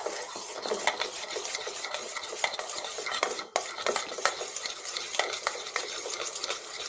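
A spoon stirs a homemade aloe vera soap mixture with coconut milk in a pot, making repeated scraping clinks against the pan at close range, with quiet background hiss and no voices.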